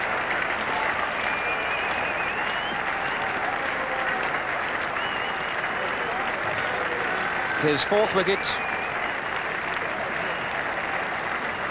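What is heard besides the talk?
cricket crowd applauding a wicket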